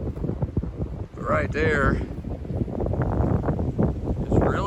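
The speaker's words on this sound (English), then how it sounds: "Very windy in this particular section." Strong wind buffets the microphone on a mountain section of the Appalachian Trail near Humpback Mountain, a rough, gusting low rumble that persists under a hiker's nearby talking.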